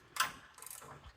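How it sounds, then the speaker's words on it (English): A ratcheting 10mm wrench works a bumper nut loose on a 1994 Chevy K1500, giving a quick, faint run of close mechanical ratchet clicks. "a ratcheting 10mm wrench that I'm going to use to get this nut off"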